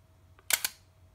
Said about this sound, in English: release the shutter